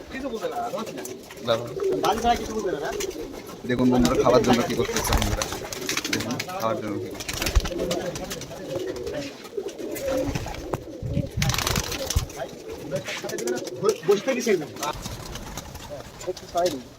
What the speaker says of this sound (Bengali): হাতবাজি কবুতর দেখতে পাচ্ছেন